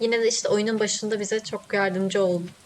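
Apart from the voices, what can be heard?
None of the usual background noises is heard.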